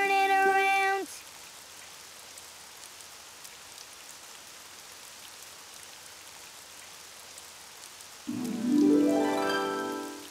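Steady rain pattering outside in an animated children's show, a soft continuous wash of drops lasting the whole stretch, with brief musical tones at the start and end.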